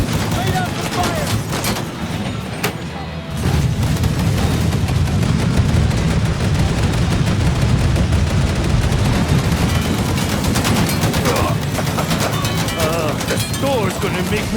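Sustained gunfire from the video game Mafia 3, dense overlapping shots and bursts roaring loudly and continuously throughout, with a brief quieter dip early before the barrage resumes at full intensity.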